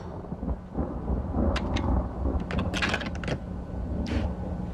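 Rumbling thunder from a thunderstorm, with a low continuous roll and rain-like hiss broken by a few sharp crackles, loud and steady throughout, no voices.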